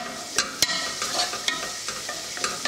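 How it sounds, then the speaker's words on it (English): Garlic sizzles steadily in hot oil in a pan, with a few sharp clicks of a utensil stirring against the pan. "just get that frying up there."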